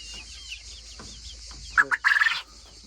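Soft clucking and rustling, then a loud burst of turkey gobbling near the end, close by.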